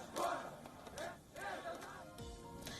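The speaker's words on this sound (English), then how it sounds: "The video on your screens was recorded during the protest, complete with anti-establishment slogans and chants" Crowd of protesters at a Moscow opposition rally chanting slogans in loud, rhythmic bursts of massed voices, fairly close, with shouting rising and falling across the scene.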